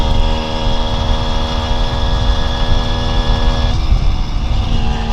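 A 1971 Kawasaki G3SS 90cc motorcycle engine runs in top gear on country back roads, a loud continuous buzzing drone heard close up with a slight drop in pitch near the end.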